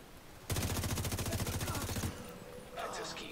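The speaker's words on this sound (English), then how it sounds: "I've got a new machine gun that I'd like to test out on you" A rapid, steady burst of machine gun fire in The Division 2 video game rattles loudly for about a second and a half, then cuts off, leaving a low hum and faint game effects.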